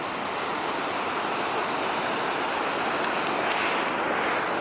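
Water churns behind a ferry, heard from the back of the ship as a steady, loud, broadband rushing wash with no other sounds.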